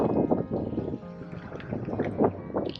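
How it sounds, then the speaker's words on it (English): Strong wind buffeting the microphone in gusty, uneven rushes at the exposed historic Topaz internment camp site in the Utah desert, loud and close with no other sounds. "It is so windy out here."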